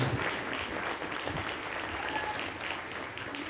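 Loud, dense applause from a congregation at a feast-day celebration of St. Anthony of Padua, a steady sustained clapping that fills the whole stretch without pause.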